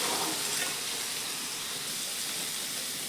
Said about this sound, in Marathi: आणि चांगलं मिक्स करून घेऊया।